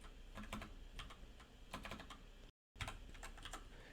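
Someone types a database name on a computer keyboard, a close run of fast, crisp keystrokes in uneven bursts, broken by a brief moment of dead silence.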